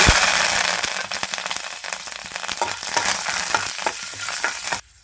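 Dried red chillies and curry leaves fry in hot oil, a loud, dense sizzle with sharp crackling pops and stirring scrapes that eases slightly before stopping abruptly.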